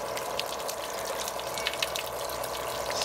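A garden hose sprays a steady stream of water across an RV roof during a leak test, producing a constant broadband hiss and wash that stays even and close throughout.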